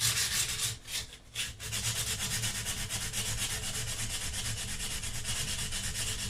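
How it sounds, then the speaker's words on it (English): Rapid back-and-forth sanding strokes on the fret ends of a Cort Telecaster-style guitar, a close, steady scratchy rasp with a brief pause near the start. "as we sand out the frets generally, I will include these fret ends in that sanding process"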